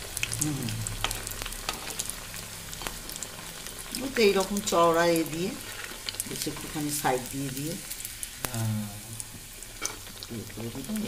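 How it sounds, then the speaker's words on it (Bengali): Thick vetki fish fillet slowly frying in a pan over very low heat, a steady soft sizzle running throughout beneath someone talking and occasional utensil clicks. "মাছটা তো মোটা, মাছের ফিলেটা, ওই জন্য এটাকে আলতো আলতো করে ভাজতে হবে।"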